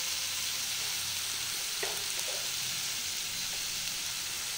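Food fries with turmeric in a pan, giving a steady, soft sizzle with a few light stirring scrapes partway through.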